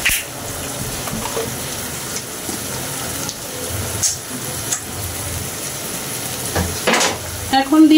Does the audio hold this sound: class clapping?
no